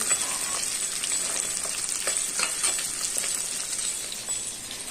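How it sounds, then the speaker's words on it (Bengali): Fish frying in a pan for a home-cooked breakfast, giving a steady bright sizzle with scattered pops and crackles, close and continuous, with no talk. "এখানে মাছ ভাজা হচ্ছে।"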